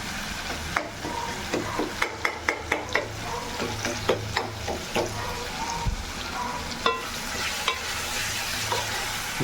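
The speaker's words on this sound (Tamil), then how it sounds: "எண்ணெயில் மஞ்சள் தூள் வெந்துச்சுன்னா சூப்பராக இருக்கும்" Turmeric powder fries in hot oil for a chicken chettinad gravy, a steady sizzle broken by a run of rhythmic scraping stirs from a spoon in the pan, close and clear with no talking.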